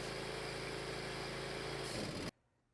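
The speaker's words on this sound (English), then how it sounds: "the engine starts." John Deere ride-on mower engine running at a steady, loud, close idle, then cutting off abruptly to near silence just over two seconds in, with no speech.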